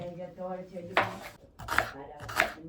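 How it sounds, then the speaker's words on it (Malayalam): Three sharp knife chops through onions on a board, evenly spaced, over a background with a faint musical tone at the start. "ഞാനിക്ക് കട്ടിയിലാണ് സവോള അരിയുന്നത് കേട്ടോ"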